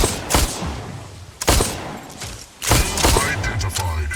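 Gunfire in a shooter video game with a sniper rifle, heard as three loud, sharp bursts spaced about a second apart, each followed by a ringing tail over a low, rumbling game background.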